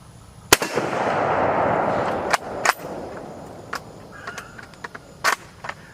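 A Carcano 91/24 6.5 military surplus rifle fires one loud, sharp shot outdoors with a long rolling echo, followed by scattered clicks and handling noises of the action.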